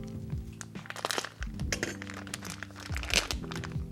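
Crinkling, crackling plastic packaging around a new Game Boy Advance SP shell is handled up close in a quiet room, with irregular snaps and rustles and a few light clicks.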